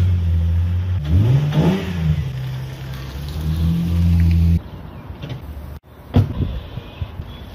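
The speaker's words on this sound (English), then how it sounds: "hear the roar of a 2JZ cold start at 6 a.m." A Toyota 2JZ engine on a cold start roars and revs steadily, loud and close, then cuts off abruptly, followed by a couple of short mechanical bursts.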